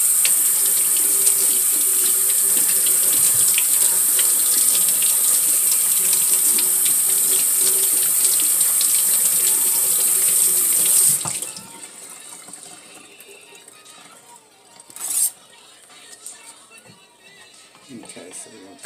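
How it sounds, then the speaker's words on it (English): Turkey rinsed under a running kitchen tap during Thanksgiving preparation: a steady, loud hiss of water for about eleven seconds that cuts off abruptly, followed by quieter handling sounds and a brief splash. "Put my turkey in here. And let's rinse this off."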